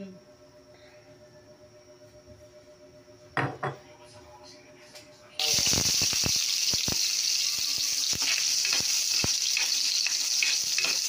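Pork drops into hot cooking oil in a pan, with a couple of clattering thuds, then a sudden loud, steady sizzle of frying with crackles and pops that continues to the end.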